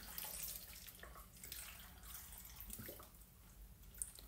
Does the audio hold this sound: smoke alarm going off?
no